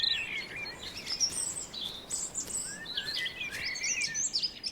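A robin sings in a Central European spring setting, thin high warbling phrases and chirps repeating from a moderate distance over a quiet outdoor background, no voices.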